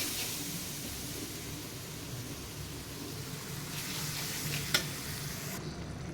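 Spices such as chili, turmeric and coriander powder with ginger-garlic and cumin paste being fried in a pan, a steady hissing sizzle with a few stirring scrapes, moderately quiet and with no talking.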